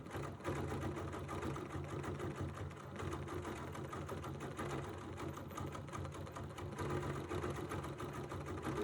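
Sewing machine stitching couched fibers in dark green thread: a continuous fast mechanical whirr with a steady needle rhythm, close and even throughout, with no talk.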